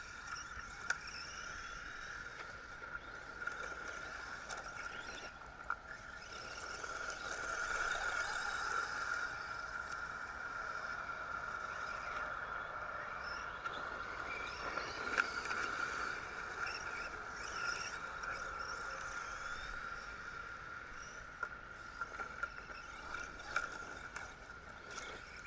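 Arrma Granite Voltage brushless RC car driving outdoors, its motor giving a steady whining drone with a fairly constant, moderately loud tone and brief rattly surges, continuing for the whole stretch with no talk.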